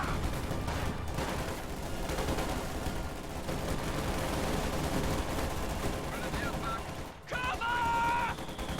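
A strategy video game battle in which shock troops fight at close range, with dense rattling gunfire and grenade blasts mixed with in-game voices, ending in a brief pause and then a burst of tonal game effects.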